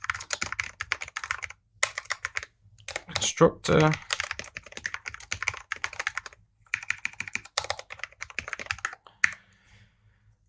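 Rapid clattering keystrokes on a computer keyboard, swapped in for a different one, run in bursts at close range, with someone speaking briefly in the middle.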